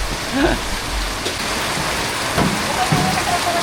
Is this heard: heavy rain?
yes